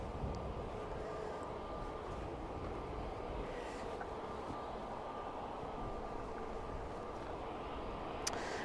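A Eurowings Airbus A320neo at Manchester Airport gives off a steady, even engine roar that holds at the same level throughout, with a faint click near the end.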